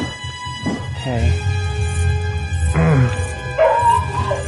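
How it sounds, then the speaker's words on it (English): A dog barks loudly and close by, mixing sharp yips and whimpering whines in short bursts over a sustained musical background. "My dog is very loud."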